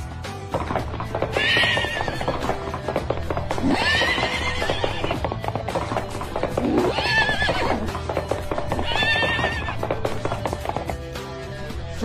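A horse neighs and whinnies several times over a steady clip-clop of hooves, loud and close, with no speech.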